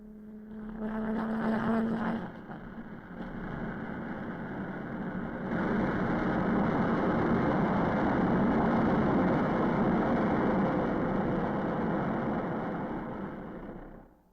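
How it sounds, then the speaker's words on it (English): A jet engine on an experimental aircraft runs up before a flight test, a loud sustained roar that swells after a brief dip and holds steady before easing off near the end. "Engine run-up was a necessary prelude to flight test"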